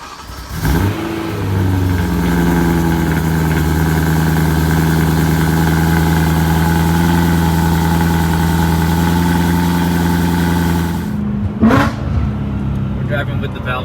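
A BMW E92 M3 with a catless Valvetronic Designs X-pipe exhaust starts up and idles loud and close with a steady, throaty drone, then gives a quick rev near the end.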